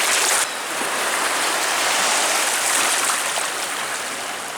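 Water splashes and runs steadily as a mudlarking find with a bit of pipe stem is washed off, a close continuous rushing and spattering with no talking.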